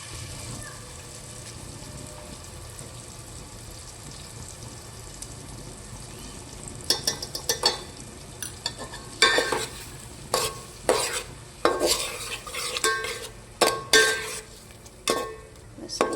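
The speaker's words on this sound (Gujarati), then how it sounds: "આપણે હિંગ મૂકી અને વઘાર કરી દીધો છે ટમેટાનો" Tomato tempering with asafoetida in a pan, a steady hiss that gives way to repeated loud scraping strokes of a spoon stirring through the sizzling mixture, close and clear with no talking.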